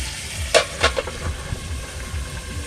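Mutton with spice masala sizzles and fries in a pan, close and steady, with a few sharp scraping stirs near the start and a continuous hiss underneath.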